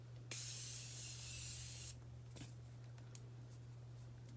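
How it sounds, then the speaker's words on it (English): Makeup setting spray hisses onto a face in one steady, close burst of about a second and a half, followed by faint handling noises over a low hum. "Always use setting spray before you put on mascara"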